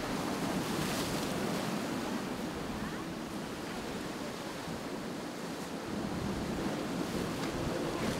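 Ocean waves wash and break continuously on the beach at Boca Inlet, a broad roaring hiss with wind buffeting the microphone.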